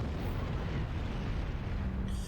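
A massive explosion in Halo: Combat Evolved rumbles as a loud, sustained low roar with crackling debris, filling the scene from start to finish.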